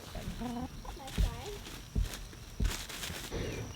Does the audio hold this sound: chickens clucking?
yes